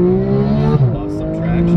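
Porsche GT3 flat-six engine revving hard through a first gear pull with a dual-clutch gearbox, a loud, close, rising wail that drops sharply at a quick upshift and then climbs again.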